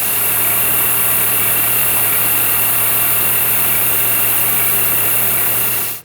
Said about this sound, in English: So let's go ahead and run a chamfer on it